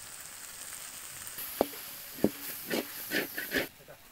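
Chicken pieces coated with turmeric, chili and coriander powder fry in a pan, a soft steady sizzle under a few sharp clinks and scraping stirs, with a voice speaking quietly at moments.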